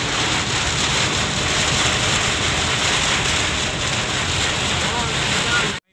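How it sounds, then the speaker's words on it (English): A steady, heavy roar of rain drums on a car while driving, dense and unbroken for several seconds before cutting off abruptly. "First experience in driving in such heavy rain."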